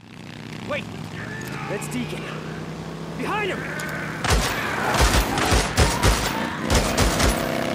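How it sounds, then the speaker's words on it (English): Gunfire in the video game Days Gone, with a loud burst of sharp, repeated shots from about four seconds on that mixes with engine rumble and ambient game noise, after earlier speech. "Gunshots, what's going on?"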